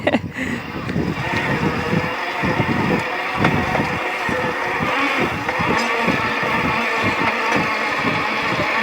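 A homemade electric cultivator tills a farm field, a continuous loud motor drone with rough, irregular churning and clattering from the soil throughout, heard close up.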